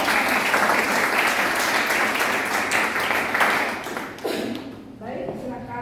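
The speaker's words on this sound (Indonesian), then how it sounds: "kita beri aplaus." Audience applause fills the room after a presentation in a lecture class, dense steady clapping that carries loud for about four seconds, then thins out and fades as a voice begins speaking near the end.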